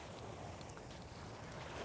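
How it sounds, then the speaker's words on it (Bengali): Sea waves washing on a shore at sunrise, a steady broad roar of surf with some wind noise on the microphone, continuous and fairly close throughout. "সাগরের ঢেউয়ের আওয়াজটা জাস্ট আমার এত ভাল লাগতেছে"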